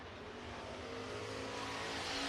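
Race cars circling the Buena Vista Raceway dirt track, a continuous steady engine roar from several cars at once, held at a mid distance with no break through the stretch.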